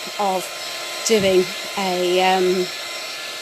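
A steady, hissing heat gun blows in the background while someone talks over it.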